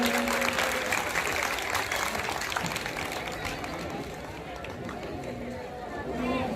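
A village gathering claps to welcome a guest, an army colonel, at a felicitation event: steady, dense applause from a crowd with chatter mixed in, lasting throughout.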